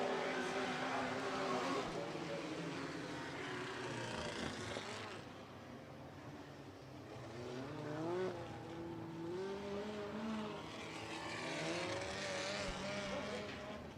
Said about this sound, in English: around in turns 1 and 2 is the 0H of Bryce Dews.